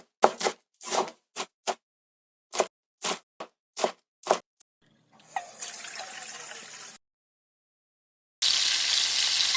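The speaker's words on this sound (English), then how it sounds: "Fry potato slices." Potato slices frying in a pan for mala stir-fried potatoes: a run of short, sharp, evenly spaced knocks, then a brief sizzling stretch, a silent gap, and a louder steady hiss to the end.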